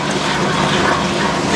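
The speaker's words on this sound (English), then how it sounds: "this one does some pretty good spray rinses now" A 1996 Whirlpool washing machine fills with water during a spray rinse, a loud, constant hiss of rushing water streaming into the tub, heard alone.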